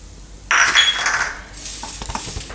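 A hot tempering of mustard seeds, cumin, asafoetida and curry leaves is poured over the puffed-rice vada mixture, bursting into a sudden loud sizzle that fades over a second, followed by light clinks of utensils.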